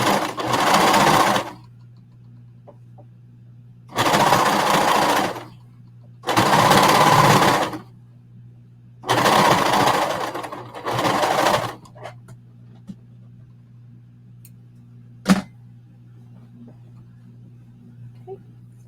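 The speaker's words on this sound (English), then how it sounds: "now we're going to start top stitching the middle and the bottom piece" A sewing machine top stitching fabric runs in five short bursts of rapid, close needle chatter separated by pauses, with a low electrical hum underneath and a single sharp click near the end.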